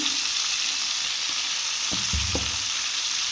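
Capsicum and papaya lightly frying in a pan for a chicken vegetable stew, a steady broadband sizzle with a few soft low clunks of stirring near the end, no talk.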